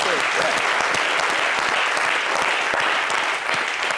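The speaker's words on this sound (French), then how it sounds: "Il faut l'applaudir" A television show audience breaks into loud, dense applause in the studio, sustained at full strength throughout with a slight dip near the end.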